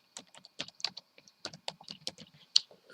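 Quick keystrokes on a computer keyboard tap out a short message, a close, crisp run of a dozen or so clicks in uneven rhythm against quiet.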